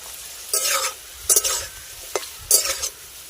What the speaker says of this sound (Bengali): দুই থেকে তিন মিনিট মতন সময় ধরে ভেজে নেব